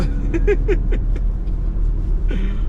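Steady low engine rumble from a 2020 BMW X7 luxury SUV driven in sport mode, a continuous drone with rising and falling tonal sweeps as it accelerates, heard from inside the cabin.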